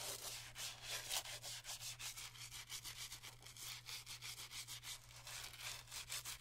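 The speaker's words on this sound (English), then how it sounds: "So we're using this stiff bristle brush." A stiff bristle brush scrubs white Gucci sneakers with quick, rhythmic back-and-forth strokes, soft and close, with no talking.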